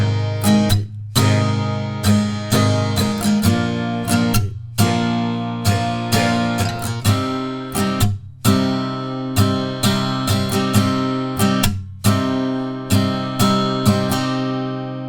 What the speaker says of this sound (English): the pre-chorus and the bridge will sound like this